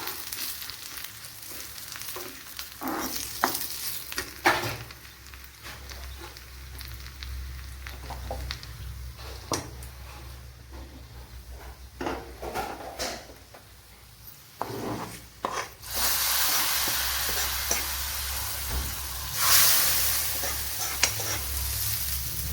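Mango curry base frying with turmeric and chilli powder, a steady close sizzle broken by repeated scraping stirs, growing louder and hissier near the end.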